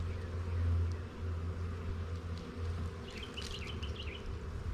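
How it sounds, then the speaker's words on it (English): Honey bees buzzing around an open hive box, a faint, steady droning hum with a few brief higher chirps near the end. "Ooh, you almost grabbed bees. They can sting through those gloves."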